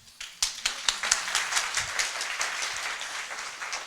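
Audience applause after a keynote lecture on urban informatics and intelligent cities, a dense burst of clapping rising quickly and holding steady for several seconds with no voices over it.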